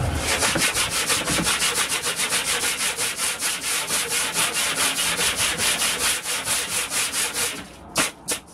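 Tough sandpaper rubbed briskly back and forth over a wooden shelf, a steady run of rhythmic scratchy strokes close up, ending with a couple of separate strokes.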